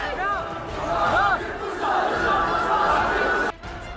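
Angry crowd in Kashmir shouting slogans in support of militants, a dense, loud mass of voices with rising chant-like calls, continuous throughout before dropping off sharply near the end.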